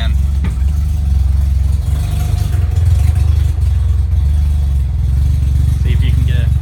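A car engine idles after a cold start on a chilly day, warming up with a steady low rumbling throb, loud and close, with a brief faint squeak near the end.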